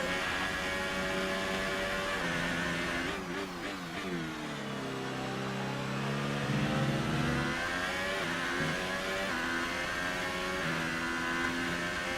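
A Formula 1 race car engine in the F1 2018 video game at the Bahrain Grand Prix, screaming at high revs with rising and falling pitch through gear changes, loud and continuous.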